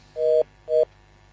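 Two short, steady telephone tones after a dropped call, each about a quarter second long with a brief gap between them, clear and fairly quiet, with nothing else heard.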